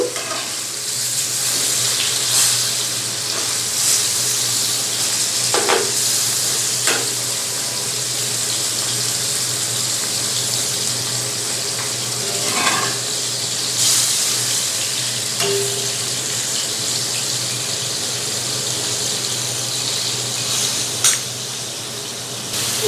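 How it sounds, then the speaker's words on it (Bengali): Rui fish frying in oil in a pan, a dense, steady, fairly loud sizzle carrying on without a break, with a few brief spatters and scrapes as the pieces are turned. "মাছটাকে আমি ভালো করে ভেজে নিব ভালো করে উল্টে পাল্টে মাছটাকে ভেজে নেব"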